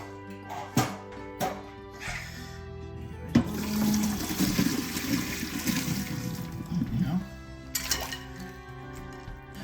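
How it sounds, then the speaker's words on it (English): Running water splashes and gushes for several seconds in a kitchen as vegetables are strained, with a few clanks of cookware before and after the pour. "I need to strain the vegetables and put it in the cold water"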